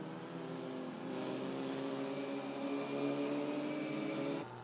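A race car with a Fiat Panda-derived engine revs at the Magione circuit, a sustained buzzing engine note rising in pitch and volume before cutting off abruptly.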